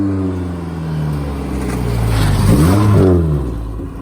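A Nissan D21 Hardbody pickup truck, newly fitted with a custom engine crossmember and skid plate, drives on a test drive, its engine rising and falling through revs and a shift, loud and close with no speech.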